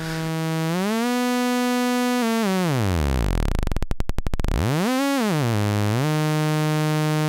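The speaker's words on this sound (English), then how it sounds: "So the first type is the saw wave." A buzzy, harmonically rich saw wave from an analog synthesizer module holds steady, then swoops down to a low fluttering buzz and glides back up again, loud and continuous.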